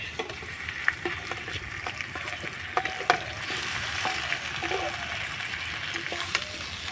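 Boiled, half-mashed potatoes fry and get stirred in a hot wok as the filling for aloo paratha, giving a steady, close sizzle with scraping stir strokes throughout.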